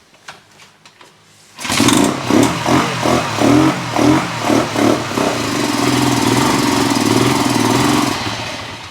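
Engine of a revived motorcycle firing up after carburetor cleaning, ignition replacement and brake master cylinder work: a sudden start followed by a series of rhythmic revs, then a steady, loud idle running on alone.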